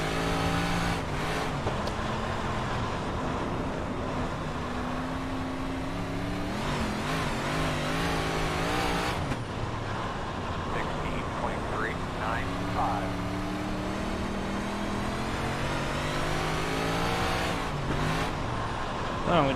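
A 358 Modified race car engine in the iRacing sim racing game at Weedsport Speedway drones steadily, its pitch shifting up and down with throttle through the corners. Someone talks over the engine throughout.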